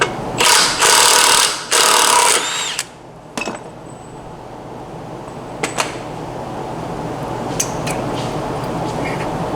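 Power tool buzzes loudly in two bursts while loosening the 36 mm secondary clutch nut on a CFMOTO CForce ATV, followed by a few short clanks and a quiet background hum.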